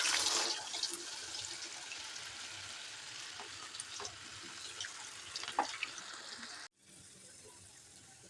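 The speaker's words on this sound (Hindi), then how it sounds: "ऑयल गर्म हो चुका है, अब इसमें हम स्नैक्स डाल देंगे।" Potato snacks frying in hot oil, a soft continuous sizzle with scattered pops and crackles over several seconds, quiet and close, cutting off abruptly near the end.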